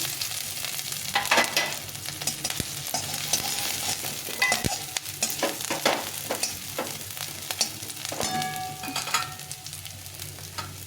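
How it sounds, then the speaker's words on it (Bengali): Chopped ginger, garlic, green chillies and then vegetables stir-fried in a pan for momo filling, heard as a continuous crackling sizzle broken by frequent sharp spatula scrapes and taps against the metal, close and fairly loud. "আদা রসুন কুচি ভাজা ভাজা করে তারপর সবজিগুলো দিয়ে দিতে হবে"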